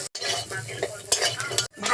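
Lentil dumplings, pumpkin, ginger, garlic and raw peanuts fry in oil left from frying fish, with a steady sizzle under repeated scraping and stirring of a spoon against the pan, close and fairly loud.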